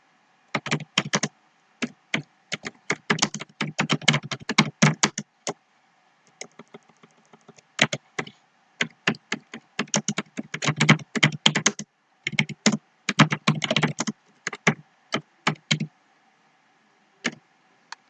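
Rapid keystrokes on a computer keyboard, clustered bursts of close, crisp clicks with short pauses between typed words, no speech.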